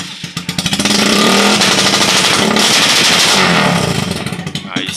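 Honda TMX Supremo 150 motorcycle fitted with a rapid backfire exhaust, revving hard close by: a loud, rough, crackling roar rising and holding at high revs, with rapid popping pulses through it, then easing off.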